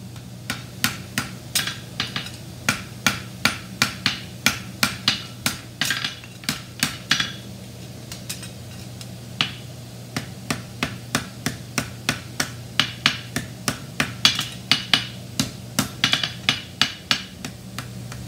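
Hammer strikes on a hot horseshoe while forge welding a whip-across bar shoe: a long run of sharp, ringing metallic blows at a quick, steady rhythm, close and loud, with short pauses between series.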